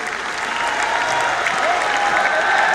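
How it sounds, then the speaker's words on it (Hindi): An audience at an honours ceremony in Surat, Gujarat, for organ donor families, applauding loudly and steadily throughout, a dense sustained clapping from a large crowd with a faint whistle-like tone underneath. "आइए जोरदार तालियों से हम आमंत्रित करें"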